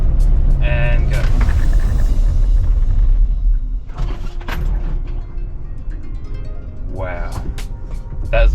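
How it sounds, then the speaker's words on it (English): A car braking hard from 60 km/h at about three-quarter pedal, loud road and engine rumble with tire noise, speech heard over it near the start. "So first we'll go 60k an hour, and we'll probably put about three-quarter braking on it."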